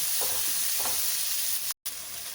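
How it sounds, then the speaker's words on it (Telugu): Onions and tomatoes frying in a pan for a Karnataka-style uggani dish, a steady close sizzle with a few faint stirring scrapes and a brief dropout near the end. "టమాటాలు ఉల్లిపాయలు బాగా ఫ్రై అయిపోయినాయి."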